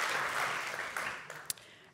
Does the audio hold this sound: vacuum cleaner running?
no